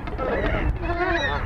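Cormorants call at a busy spring nesting rookery in Fergus Falls, Minnesota, with overlapping hoarse honking and croaking from many birds over a dense, continuous colony din.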